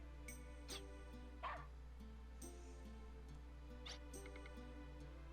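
Short, faint yips from a dog in the Wild ARMS 2 video game, a few light barks scattered over a steady background tone and game music, with no talking.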